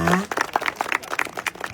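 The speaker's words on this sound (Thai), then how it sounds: "ขอเชียงปรบมือให้ตัวเองด้วยลูกเก่งทุกคนเลยนะคะ" At a record label's New Year party, a brief voice gives way to a burst of clapping from a small group, lively and uneven, close by.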